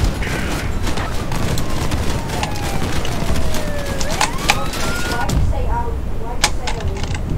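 A siren in the vehicle combat game Crossout winds down in long falling tones, heard amid dense mechanical clatter and sharp impacts from battle.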